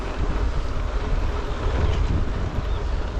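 Steady, loud wind rushing past the microphone while riding a gravel bike on dry gravel roads, a continuous low roar with gusty swells and no talk.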